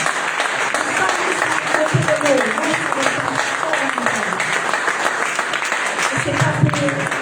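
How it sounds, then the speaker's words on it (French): Audience applauding at a French-language religious gathering, a dense steady patter of clapping filling the whole stretch with crowd noise and some voices mixed in. "Vous pouvez applaudir cette femme"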